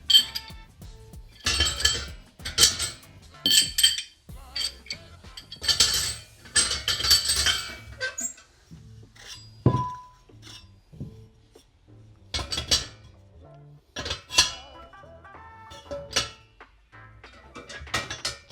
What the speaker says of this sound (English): Put the grate back in.